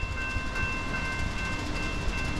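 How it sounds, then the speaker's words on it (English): A freight train on the Lehigh/CSAO line passes close by, filling the scene with a steady, loud rumble and rail roar that carries a faint high whine, with no voices. "Fourth train of the day."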